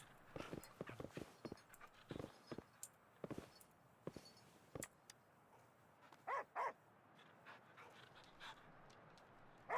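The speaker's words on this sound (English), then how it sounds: "Can I pet the dog? I can pet the dog!" A dog in Wuthering Waves pants and gives a few short barks and snorts, scattered and fairly close over quiet game ambience.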